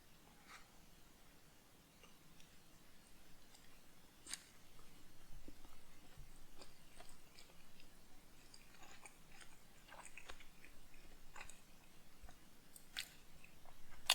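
Soft, close chewing and biting of an almost Chicago-style hot dog without sport peppers, quiet moist crunches and clicks recurring irregularly against a faint room hush.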